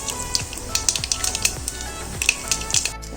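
Mustard seeds crackle and pop in hot coconut oil, a dense run of sharp snaps over a steady sizzle, close and loud with no talk.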